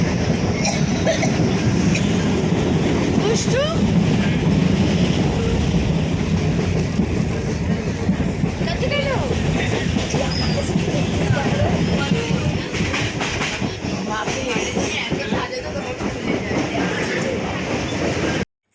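A train runs along its rails with a steady, close rumble and rattling wheel clatter throughout. A brief spoken word is heard over the noise.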